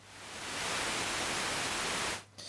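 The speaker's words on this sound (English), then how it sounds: "when you just turn it off and then turn it on again, it sounds like a white noise," Steady hiss of white noise from a Eurorack looper module in a small Rings, Citadel and Oneiroi system, swelling in over the first half second, holding loud and even, then cutting off abruptly near the end.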